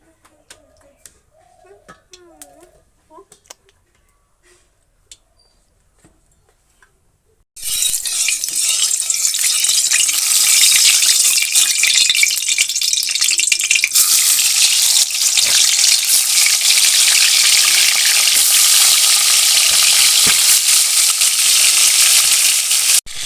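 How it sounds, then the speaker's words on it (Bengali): After several seconds of near silence, loud oil sizzling bursts in abruptly as hilsa fish heads hit the pan, then crackles steadily and intensely until the end. "এখন আমি ইলিশ মাছের মাথাগুলো ভেজে নেব"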